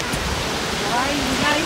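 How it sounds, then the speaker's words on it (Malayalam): Seven Falls waterfall in Colorado roars as a steady, broadband rush of falling water, loud and continuous from nearby, with no clear voices over it. "ഇതാണ് നമ്മുടെ വെള്ളച്ചാട്ടം"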